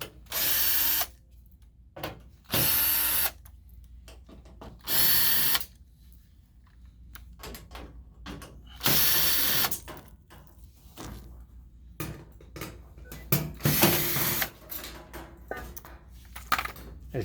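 A power screwdriver backs screws out of the back cover of a Toshiba e-Studio copier: several short, whirring bursts of about a second each, separated by quiet gaps with small clicks and rattles of handling.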